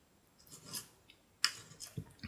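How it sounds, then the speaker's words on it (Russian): A knife slices through red fish on a board, cutting it into cubes in a few quick, quiet strokes, with faint scraping between cuts. "рыбу красную режем на вот такие кубики."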